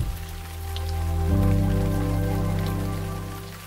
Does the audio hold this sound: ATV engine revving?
no